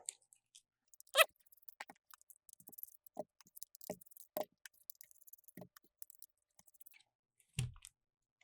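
A screwdriver backing screws out of an Xbox One controller: faint, sparse clicks and small scraping ticks at irregular intervals, close by, with a slightly louder clunk near the end.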